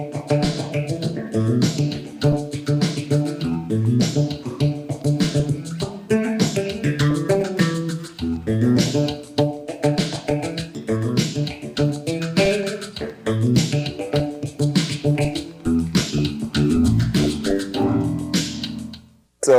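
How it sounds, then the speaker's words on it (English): Bass guitar played with the fingers in a busy, guitar-like part, with chordal double stops and melodic runs in a steady groove, close and loud with no talking. "Another approach is to play a more guitaristic kind of part"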